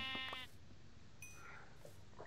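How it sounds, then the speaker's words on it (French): A sheep in the Minecraft video game gives a single short, clear bleat with a wavering tone, followed by quieter game ambience and a faint later chirp. "Un mouton."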